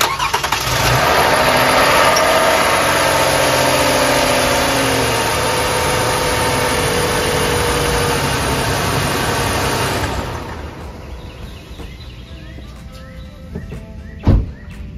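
A 2014 Toyota Sienna engine starting and idling loudly and steadily up close for about ten seconds, then shutting off, followed by quiet with a single sharp knock near the end.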